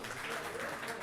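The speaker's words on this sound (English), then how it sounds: "give another round of applause for General Clark" Audience applause for General Wesley Clark at an Albanian community gathering in a restaurant, a steady, dense wash of clapping filling the whole moment at moderate level.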